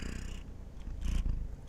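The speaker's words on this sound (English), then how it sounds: "Go ahead and purr into it." A cat purrs close up in a steady low rumble that swells briefly near the end, with no talking over it.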